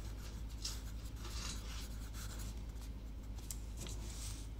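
A pen or pencil writes a word on paper in a quiet classroom setting, with steady, faint scratching strokes that continue throughout and have no talk over them.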